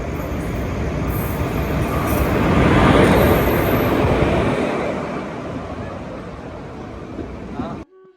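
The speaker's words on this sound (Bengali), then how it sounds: "ট্রেন ঢুকে গেল।" A train rolls into a station in Kalna, West Bengal. Its loud rumble and clatter build to a peak, then slowly ease off as it slows, and the sound cuts out abruptly at the end.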